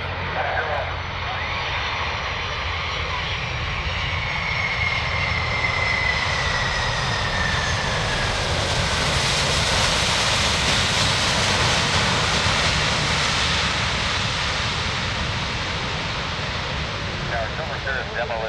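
A Lockheed C-5M Super Galaxy arriving at EAA AirVenture 2019 makes a loud, steady jet engine roar that swells slightly toward the middle and holds for the whole stretch, with radio talk underneath.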